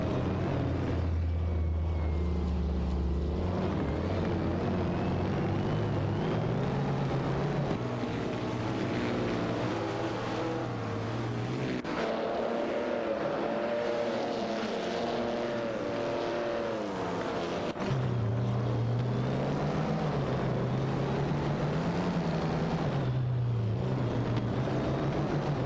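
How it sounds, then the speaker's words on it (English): AI-driven race cars in a video game roar past with engine notes rising and falling in pitch, loud and continuous, shifting as cars pass and change gear. "Racing car dashing away."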